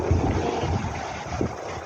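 Wind gusts roar steadily across the microphone at the Fountain of Youth in Basco, Batanes, with a loud, buffeting rumble and no talk.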